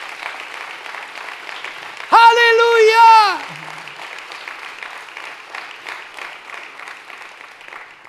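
Congregation applause during a Sunday evening church service, steady clapping running under the whole stretch while one voice rises in a brief sung shout.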